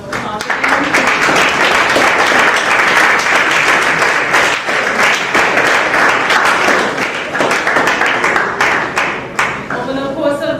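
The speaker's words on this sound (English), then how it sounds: "let's give all the kids a round of applause" A crowd applauds for the children at a robot camp, loud sustained clapping filling the whole stretch, with a few scattered voices just audible near the end.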